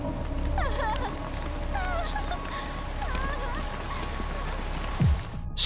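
Steady rain falling on a surface, a constant soft patter with faint bird-like calls in the background and a brief low thump near the end.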